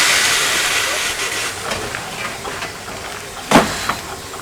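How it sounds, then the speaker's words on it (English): Steady broadband hiss of escaping steam from a nearby later-pattern Barclay saddle tank steam locomotive on the Middleton Railway, with a sharper burst of venting partway through and faint voices in the background. "the later pattern Barclay steam locomotive"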